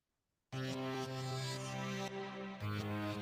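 A reversed acoustic guitar sample with effects swells in abruptly and sustains as a rich, chordal tone, shifting in pitch partway through. It is loud and continuous, with no voices.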